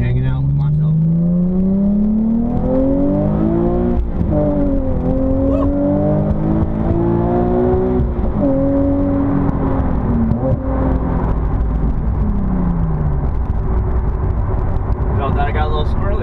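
A Nissan 370Z cruising on the road, its engine note droning steadily and climbing through several smooth rising tones as it accelerates and shifts, with someone talking over it.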